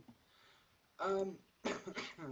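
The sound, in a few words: cough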